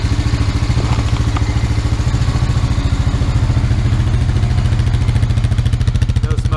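A Honda Rancher 350 four-wheeler ATV engine idles steadily up close, a rapid even putter from the exhaust with a light mechanical clatter, running smoothly and continuously without any change in pace.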